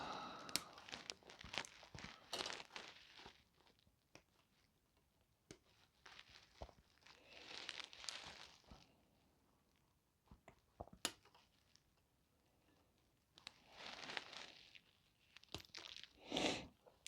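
Plastic Warhammer 40,000 model parts clipped off a sprue frame, with repeated crunchy snips, crinkling and handling of the plastic in uneven bursts close by, with no talking.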